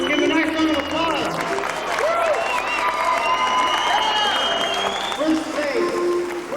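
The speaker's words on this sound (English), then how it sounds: "Give a nice round of applause." An audience at a Halloween monster-maker contest awards applauds and cheers for a second-place finisher. The sustained, dense clapping lasts throughout, with whoops and shouts rising above it.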